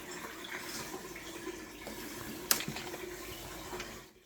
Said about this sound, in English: I'm just testing the hot water out now